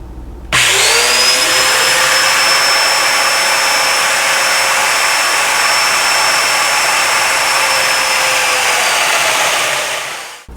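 Festool Domino joiner cutting mortises into dining table rails: a loud, steady high-pitched motor whine that spins up, holds for about ten seconds and then winds down, with no talking.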